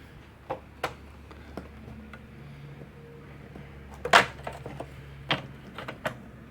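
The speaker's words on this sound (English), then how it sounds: "I can hear the nut off of the power button rattling around in the controller board" Loose nut from a power button rattling inside the controller of a Future Motion electric board, sparse small clicks and taps at irregular intervals, one louder clatter midway, close and quiet with no talking.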